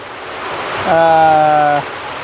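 Heavy rain pours over a village in the Vanni region as a constant broadband wash, with a short tonal, voice-like hum rising over it for about a second in the middle.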